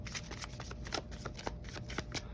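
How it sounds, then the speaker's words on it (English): Tarot cards shuffled by hand in a steady run of soft riffling flicks and papery slaps, close and fairly quiet, with no voices. "now let's shuffle for a back of the deck energy,"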